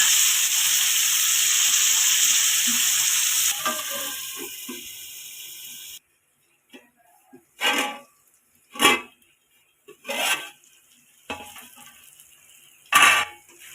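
Tomatoes stirred in a metal pot with a spoon: after a stretch of loud frying hiss, several separate clanks and scrapes of the spoon against the pot ring out up close, with no one speaking.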